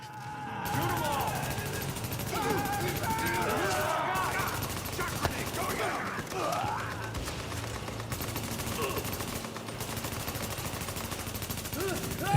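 Sentry gunfire rattles through a shootout in The Division, a video game. Dense bursts of shots repeat for the full stretch, mixed with game audio and a player talking.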